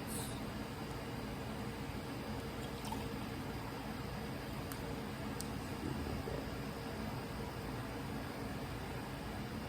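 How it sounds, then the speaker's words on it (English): A steady stream of distilled water pouring over succulent roots, quiet and continuous with no pauses, accompanied by a soft broadband rush throughout. "I'm going to put my distilled water"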